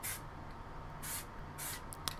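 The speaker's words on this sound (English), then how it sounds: "Just spraying it like I don't care." Spray paint hisses from an aerosol can in three bursts of roughly half a second each, close and steady, followed by a faint click.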